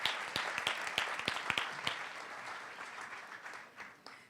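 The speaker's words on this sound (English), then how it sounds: "Let's give another hand of applause to all our finalists." An audience at a business plan competition applauds its finalists, with dense clapping that stays fairly quiet and slowly fades out.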